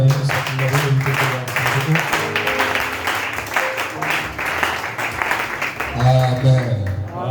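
A church congregation applauds the Lord, a sustained crowd of clapping hands layered with cheering voices and music, loud and steady throughout.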